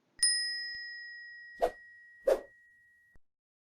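A bright bell chime rings out and lingers with a long sustained tone, followed by two soft whooshing swipes and a faint click; no voices.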